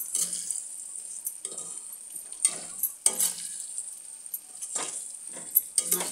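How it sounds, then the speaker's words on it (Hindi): Coarsely ground masala being stirred into raw mango pickle, heard as a run of about six distinct scraping, rustling strokes. The strokes come close up, in an uneven rhythm, with quiet pauses between them. "मसाला ऐड कर देंगे, इसको अच्छे से मिला लेंगे इसमें।"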